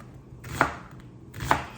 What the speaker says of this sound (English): I'm gonna chop up me an onion, and I'm not gonna chop it small